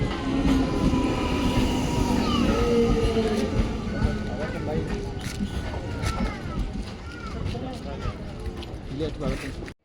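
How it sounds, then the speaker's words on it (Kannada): A passenger train arrives at an Indian railway station with a steady rumbling, rolling roar and faint squeals, while people talk nearby throughout. "ಸೊ ಅದಾದಮೇಲೆ ಟ್ರೈನ್ ಬಂತು."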